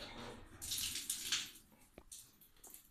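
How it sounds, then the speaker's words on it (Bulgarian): Water runs from a shower head after someone turns it on, a soft, hissing spray with surging bursts and a single sharp knock partway through, fairly faint overall. "Някой реши, че трябва да се качи върху души и да го пусне."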